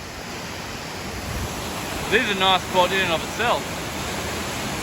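A waterfall and creek rush continuously as a broad, steady hiss of falling water, with a person speaking briefly midway over the roar.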